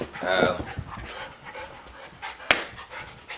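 Dog panting close by while being dog-sat, quick rhythmic breaths with a whine near the start and a sharp knock partway through, amid a noisy indoor room.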